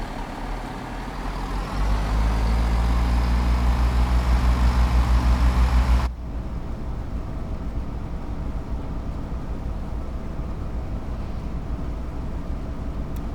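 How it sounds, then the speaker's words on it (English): A parked bus idles in the Train Sim World 2 Isle of Wight setting, a steady low rumble with rhythmic ticking that cuts off abruptly partway through, leaving a quieter ambient hum. "Even hear the bus ticking over it,"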